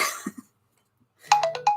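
A short phone message notification chimes close by, a quick series of four bright electronic tones following a brief cough-like sound and a moment of silence.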